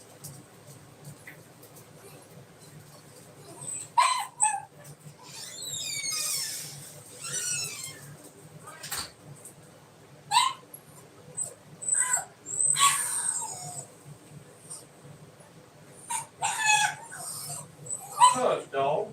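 Dog barking and whimpering indoors, scattered sharp barks and whines at varying distance, interspersed with a person speaking.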